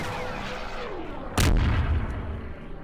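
A tank fires in a Clone Wars video game: one heavy, booming cannon shot bursts out over a constant rumble of battle noise and fades slowly.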